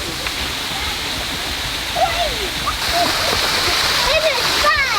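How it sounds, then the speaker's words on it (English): A waterfall in Queen Elizabeth Park, Vancouver, a steady broadband rush of falling water heard nearby, with chirping birdsong drifting over it. "Oh, we made it to the waterfall."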